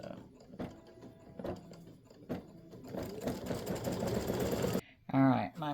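An embroidery machine stitches freestanding lace earrings and a small ornament, with a fast rhythmic mechanical whirr that builds to a dense steady run before stopping, with a voice talking at times.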